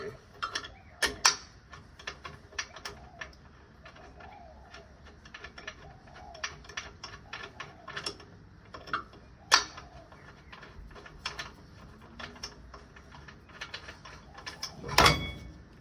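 Bolts being fitted onto the brake caliper of a Ford BA/BF Falcon during a pad change, heard as close, irregular metallic ratcheting clicks and small clanks over several seconds, ending in a louder clatter.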